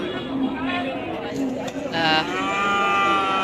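Cattle at a livestock market selling bulls and calves, including local, cross and Sahiwal breeds. Loud, drawn-out moos come through under close speech, with crowd chatter around.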